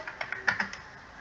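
Fingers tap a computer keyboard in a short run of quick, light keystrokes, close and fairly quiet, with no voice.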